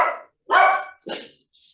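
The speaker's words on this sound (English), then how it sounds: "It sounds like Lucky agrees with you. Yeah, it sounds like dogs agree with me" A dog gives three separate barks, close and loud, with short silences between them, followed by a faint whimper at the end.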